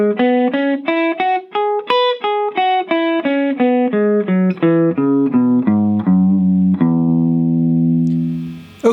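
Electric guitar plays the major pentatonic solo phrase from a song, a quick run of clean, separate picked notes climbing and then descending before ringing out on a held final chord, close and alone.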